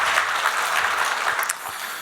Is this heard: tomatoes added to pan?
no